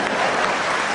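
An audience at a Hindi comedy poetry show applauds in a short, steady burst of dense clapping.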